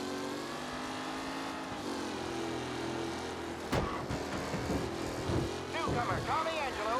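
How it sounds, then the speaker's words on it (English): A race car engine drones and whines in Mafia: Definitive Edition, sounding faulty with rough, uneven revving and gear changes while a commentator talks over it. "Well, the car engine is making some bad sounds."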